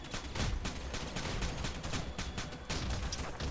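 Automatic gunfire in the Rainbow Six: Shadow Vanguard video game: rapid, repeated sharp bursts of shots, sustained and fairly close, with no voices.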